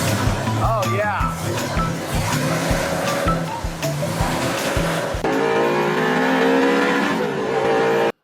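A 1966 Ford Fairlane gasser's engine cranks and fires, then revs hard in loud, rough bursts before settling into a steady, high idle drone. It is close-up, with a voice briefly over it at the start.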